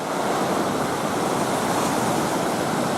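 Brown, silt-laden water crashes at a river mouth on a Lake Superior shore near Pictured Rocks, a dense, continuous roar of surf with wind buffeting the microphone.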